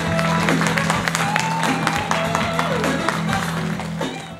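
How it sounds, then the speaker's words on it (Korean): An audience at a community care results-report event claps as a deputy mayor comes to the stage: a steady wash of applause with faint crowd murmur and a constant tone underneath, fading toward the end. "나오실 때 여러분 큰 박수로 맞이해 주시기 바랍니다."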